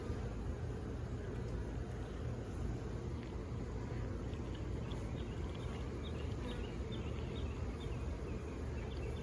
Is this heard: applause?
no